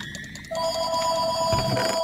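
A loud mobile phone ringtone rings out with steady electronic tones, starting after a quieter half-second of background game noise and continuing to the end.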